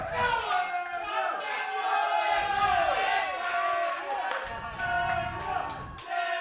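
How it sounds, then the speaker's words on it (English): Spectators at the Australian 8 Ball Championship final cheer and shout in a lively, rising and falling roar, with voices calling out over scattered clapping. The crowd sounds indoors and moderately distant. "Just listen to the crowd."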